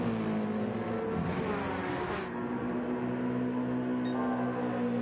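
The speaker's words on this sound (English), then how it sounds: "The Red Bull Porsche passes the Aston Martin." Race cars in the Gran Turismo video game, a Red Bull Porsche passing an Aston Martin, give a sustained, even engine drone with a brief surge as one car goes by.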